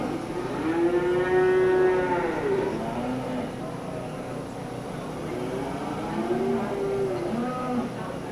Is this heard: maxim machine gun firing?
no